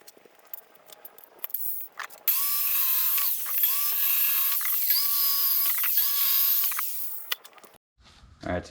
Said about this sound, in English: I will be using a skill saw to cut it.